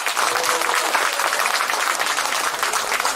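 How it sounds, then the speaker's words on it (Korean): Dense, steady audience applause at a live K-pop girl group stage performance, loud and continuous throughout with no pauses. "박수 많이 쳐주실 거죠?"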